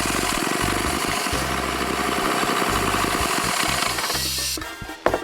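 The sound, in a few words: Mercury Force 120HP two-stroke outboard engine running while fogged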